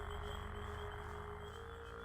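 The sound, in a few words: loud frogs croaking in the video game Gothic 2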